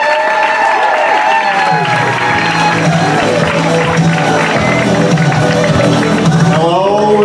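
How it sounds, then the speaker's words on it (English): Loud applause and cheering from a comedy club audience at the Improv as a comedian is introduced, a dense continuous wash of clapping with shouts and whoops throughout, voices mixed in. "A huge round of applause for Jerry Dixon."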